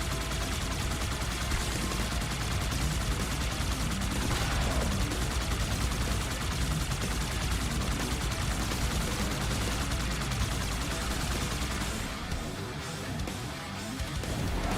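Gunfire in the video game Halo 2 Anniversary, a dense, continuous barrage of shots and bursts blending into loud, noisy combat that thins briefly near the end.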